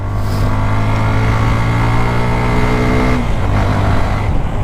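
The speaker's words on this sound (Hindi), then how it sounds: "तो दोस्तों मैंने बाइक को फुल ऑन खींच दिया है। अब सुनाता हूँ इसकी आवाज़ आपको" A motorcycle engine, just back from a service that fixed an engine noise problem, revs at full throttle. It gives a loud, steady, close droning tone that eases slightly about two-thirds of the way through, with no talking.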